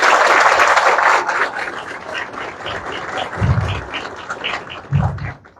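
Applause fills a municipal association's election meeting in Amazonas, Brazil, after a slate is declared elected: a dense burst of clapping that fades over a few seconds, with some murmuring and low thumps underneath.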